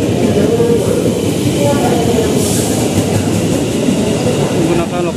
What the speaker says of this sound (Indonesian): Menggunakan lokomotif CC 206 1310.